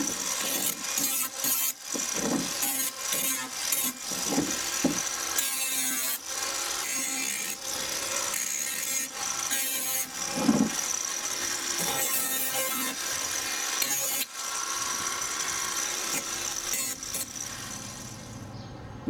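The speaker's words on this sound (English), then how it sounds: "I'm just going to tidy up the edges a bit with the angle grinder" Angle grinder tidying the cut edges of an old plastic wheelie recycling bin, heard as a steady, close abrasive rasping and scraping that runs throughout with short pauses and varying pressure.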